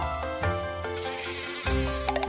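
Steady Minecraft bee buzzing drones continuously over a backdrop of bright music, close and fairly loud throughout.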